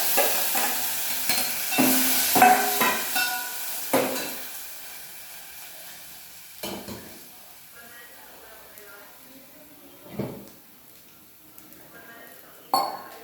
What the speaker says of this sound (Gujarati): ચાલો હવે આપણે વઘારી દઈશું બટાકાનો મસાલો.